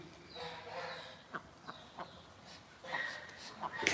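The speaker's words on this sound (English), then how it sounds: "There's a little chick in distress" A little chick calls in distress at a farm on Halloween night, short sharp peeping cries repeating irregularly over faint background sounds of other fowl.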